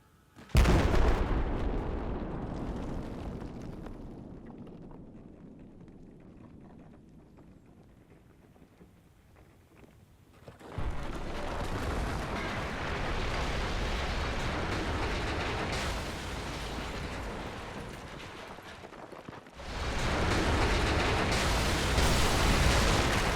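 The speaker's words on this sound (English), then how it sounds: "it will detonate the warhead, which in turn brings down the smokestack." In Battlefield 4, a warhead detonation brings down a smokestack: a sudden loud blast settles into a fading low rumble, then a long heavy roar of collapse and a second surge of crumbling rumble, all dense, loud and close.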